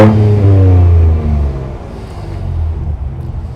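A Ford pickup truck engine revs to 4,000 RPM loudly and close by in one of its exhaust modes, holds briefly, then drops back to a lower rumbling idle.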